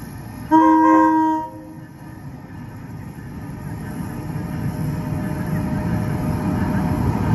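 An NJ Transit train departs, opening with a loud multi-tone horn blast lasting about a second, followed by a rising, steady rumble of the train pulling away nearby.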